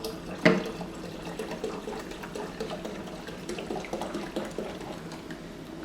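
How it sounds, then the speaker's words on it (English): Homemade sparkling cranberry juice fizzes steadily, a soft continuous hiss and bubbling at close range, with one brief louder splash near the start and no talking. "It's getting all fizzy."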